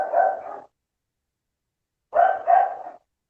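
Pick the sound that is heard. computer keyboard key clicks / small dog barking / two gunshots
small dog barking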